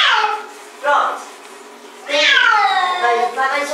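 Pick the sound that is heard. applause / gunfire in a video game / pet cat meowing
pet cat meowing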